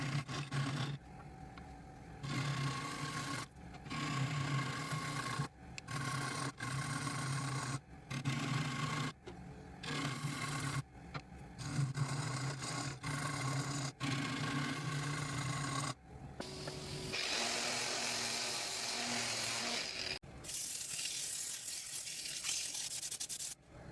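A resin and cherry wood bowl spinning on a lathe while being sanded and shaped, giving a steady loud rasping and rubbing that stops and restarts in short bursts, then shifts to a harsher, brighter scraping toward the end.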